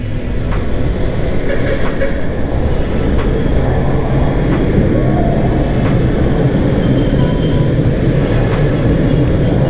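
A light rail train rumbles steadily and loudly nearby, a dense low roar with periodic rhythmic clacks of wheels over rail joints, no voices.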